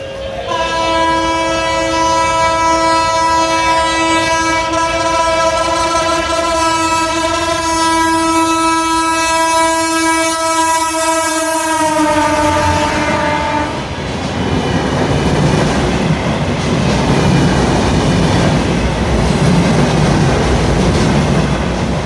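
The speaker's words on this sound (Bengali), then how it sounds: "অল্প সময়ে ঢাকাগামী বেনাপোল এক্সপ্রেস ট্রেনটি জুড়ে রেলগেট থ্রুপাস করবে" A Dhaka-bound Benapole Express train passes through a rail gate at night. Its horn blares loud and sustained for about twelve seconds, then gives way to the heavy, close rumble and rush of the carriages going by, with no talk.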